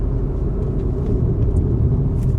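Steady low road rumble from inside a car driving in Malaysia, a continuous engine and tyre drone with no talking.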